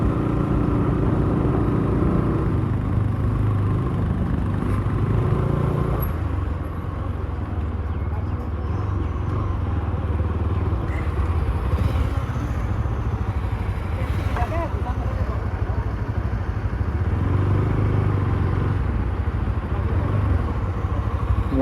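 A motorcycle engine running on a mountain road, a steady low rumble close by throughout, with people talking over it.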